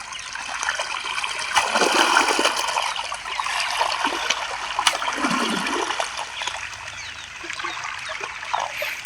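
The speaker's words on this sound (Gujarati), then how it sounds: "આ બાજુ પાણી કેટલું બધું આવી રહ્યું યાર" Water gushes steadily along an irrigation channel in a castor field, a close, rushing trickle and splash that swells and eases slightly over several seconds without speech.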